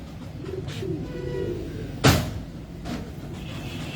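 Old Misri pigeons coo in soft, low murmurs, with a sharp knock or door-like bang cutting in briefly midway.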